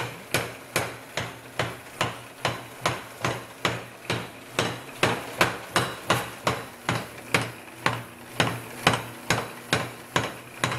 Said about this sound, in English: Power hammer.